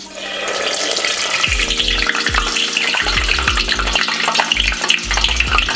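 Food frying in hot oil in a pot for mashed potatoes, a steady loud sizzle and bubbling with rhythmic low thumps, no talking.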